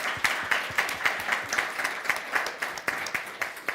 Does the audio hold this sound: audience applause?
yes